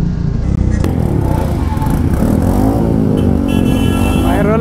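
A motorcycle with a loud aftermarket exhaust revs hard in a busy market, the engine note rising and falling in close, loud bursts.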